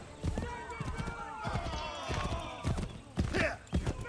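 Galloping hooves of a horse ridden in the game Assassin's Creed III, a fast clip-clop rhythm under game music with voices speaking over it.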